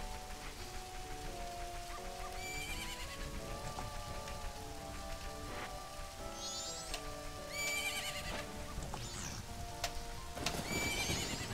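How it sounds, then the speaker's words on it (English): In the Zelda: Majora's Mask video game, a horse whinnies in several rising calls over steady rain and clip-clopping hooves, with game music tones playing throughout and no talk. "Horse is not happy right now."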